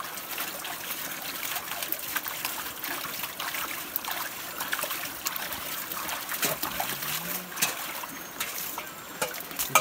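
Water splashes and trickles steadily as it is bailed out by hand while people catch asala fish in a shallow stream, a continuous close wash of dribbling and splatter with no voices.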